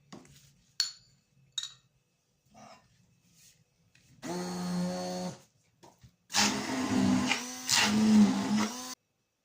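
A kitchen mixer whips cottage cheese with starch, whirring loudly in two sustained runs with a short pause between, after some light clinks of utensils and bowl.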